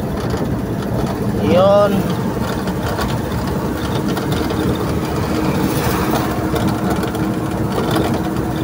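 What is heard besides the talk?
Kia Bongo Porter D4CB engine running after overhaul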